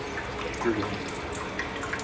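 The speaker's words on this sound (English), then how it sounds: "Look at that, it's running water." Water runs steadily from a broken kitchen tap with worn washers into a sink, a soft continuous splashing hiss with faint drips and no pause.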